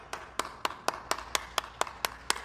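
Around ten evenly spaced, sharp hand claps at a restaurant table late at night, a slow, steady rhythm from a single clapper or a small group, fairly faint and close.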